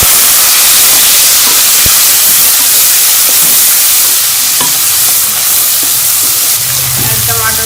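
Garlic paste fries with onions in a pan for a bottle gourd sabzi, producing a loud, hissing, steamy sizzle with intermittent stirring clicks and scrapes, near and constant throughout.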